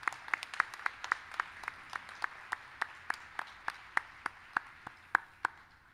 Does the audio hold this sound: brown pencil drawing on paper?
no